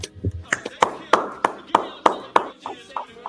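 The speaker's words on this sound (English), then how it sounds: "give them a round of applause" Sparse, evenly spaced claps, about eight sharp hand strikes in a slow rhythm, close and fairly loud, given as a small round of applause during a talk.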